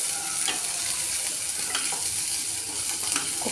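Onion and coriander fry in a pan for a fish curry, a steady close sizzle with scraping stirs of a spoon breaking through now and then.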